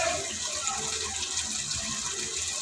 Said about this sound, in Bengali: এখন এটাতে আমি একটু জল দিয়ে দিব।